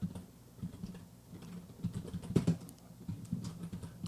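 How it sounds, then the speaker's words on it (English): Keys clatter in quick, uneven bursts on a computer keyboard as a project name is typed into Adobe Premiere Pro, close and fairly soft, with no talking. "So I can call this the Premiere, bad typing"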